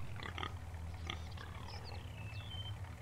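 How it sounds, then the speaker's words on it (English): Pigs on a farm in the Farming Simulator 19 video game give a few low grunts over a steady ambient game hum, moderately quiet and with no talking. "I hear pigs."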